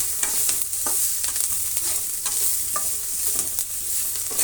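Onion, carrot and crushed garlic fry in a pan with a bright, continuous sizzle, punctuated by short scraping strokes of a spatula, close and loud with no talking.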